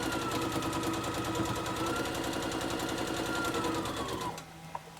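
A sewing machine stitches quilt block pieces together for a four-patch block, running as a fast, even mechanical chatter at close range for about four seconds before stopping, with a weed trimmer droning faintly outside.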